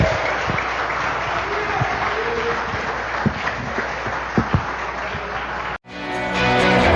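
A church congregation gives loud, sustained applause for most of the clip, with a few sharper claps standing out. It cuts off abruptly near the end into a different sound.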